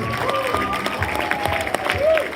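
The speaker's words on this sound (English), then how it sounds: "please give Ben a nice big round of applause" Wedding reception guests clap in a room, a moderate patter of hands with some cheering mixed in, while a voice carries over the applause.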